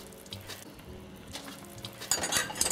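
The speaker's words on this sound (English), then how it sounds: "I'm now going to take out the vegetables and put them in my bowl. I'm going to take them out with a slotted spoon" Cooked root vegetables from a tagine with preserved lemon and Greek black olives are lifted from a sizzling pot with a slotted spoon, with a steady fry-like hiss and brighter metallic clinks and scrapes near the end.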